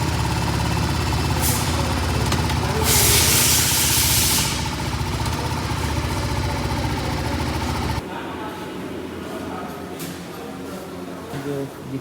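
A lube spray can hisses onto the chain of a 2025 TVS Apache RR 310 motorcycle at its first service, one bright close burst lasting about two seconds, set against workshop rumble and voices.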